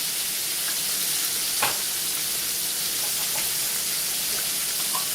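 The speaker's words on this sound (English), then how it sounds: "while it's frying so it doesn't stick" Seasoned chicken wings frying in a pan with a continuous loud sizzle, a steady bright crackle with occasional pops and a brief clink, heard up close.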